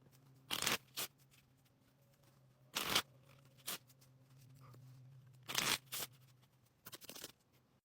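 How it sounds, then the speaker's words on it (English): Tarot cards shuffled back into a deck in a quiet room, with four or five separate bursts of riffling and snapping, each lasting under a second, spread across the stretch with quiet pauses between. "shuffling my cards back into the deck"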